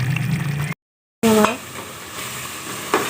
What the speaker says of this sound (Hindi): मसाला हमारा भून रहा है